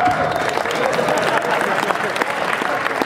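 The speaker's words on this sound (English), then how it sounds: "they're applauding for you" Audience applause at a furry convention dance competition, a dense, steady wash of clapping from a crowd filling the whole stretch, with voices faintly mixed in.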